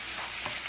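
Onion frying in a pan, a soft steady sizzle with a brief stir partway through, quiet and close.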